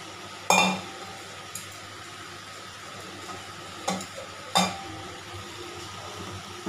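Boiled chickpeas tipped into a pan of chickpea curry and stirred, a few sharp scraping clinks of a spoon against the pan over a low steady sizzle, with no talking.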